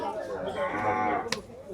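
Cattle at the Gabtoli cattle market, with a drawn-out moo rising over a crowded background murmur and a brief sharp click near the end.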